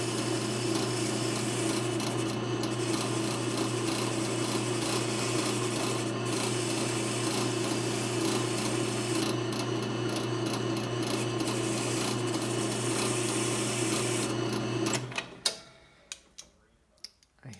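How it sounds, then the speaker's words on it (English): A brass wire brush scrubs Sea Doo Speedster jet pump parts in a continuous, loud, close rasping buzz for about fifteen seconds, then stops, followed by a few scattered knocks and clatters. "This is just a wire brush."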